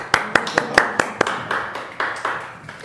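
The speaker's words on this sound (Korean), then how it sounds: "박수 한번 주세요." A church congregation claps in a steady rhythm, about a dozen sharp claps at even intervals, growing slightly softer and more blended toward the end.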